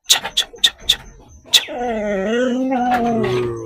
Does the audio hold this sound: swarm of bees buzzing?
no